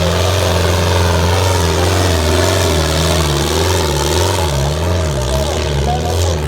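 A tractor engine roars steadily at a tractor-trolley pulling contest on a village sports ground in Ludhiana district, Punjab: a loud, continuous low drone with rising and falling revs throughout, close and dominant.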